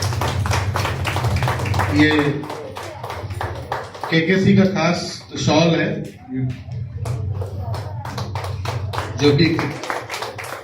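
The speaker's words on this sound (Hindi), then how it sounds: "एक बार जोरदार तालियां।" An audience at an award ceremony honouring unorganised sector workers claps in sharp, repeated bursts, heard throughout beneath someone speaking into a microphone.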